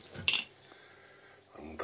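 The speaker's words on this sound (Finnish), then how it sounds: "Joo, tiskataan noita. Laitetaan saman tien vähän sitä pesuainetta sinne vaahtoamaan" Dishes and cutlery clink and clatter in a kitchen sink during washing with dish soap: a short bright clatter near the start, a quiet stretch, then another brief knock at the end.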